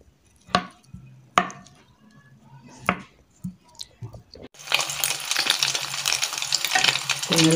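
Egg-battered cauliflower is laid into a frying pan over low heat: a few sharp wet taps and pops, then a steady, loud hiss of frying oil fills the second half.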